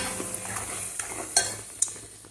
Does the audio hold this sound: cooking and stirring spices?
yes